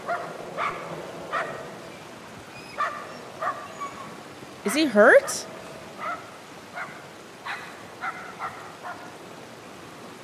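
Dog barking in the Somerville video game, a run of short repeated barks spaced through the scene, with a loud burst in the middle and people talking over it.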